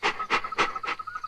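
A dog pants hard while giving chase, four quick, breathy gasps close to the listener in an even rhythm, then a faint trailing breath.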